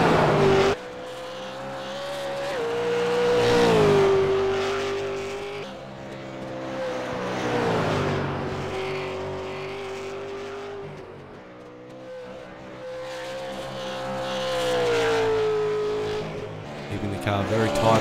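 A race car at Bathurst circuit drops down through the gears, its engine note stepping and swelling, then revving hard again in long rising and falling waves, loud and close with an onboard feel throughout.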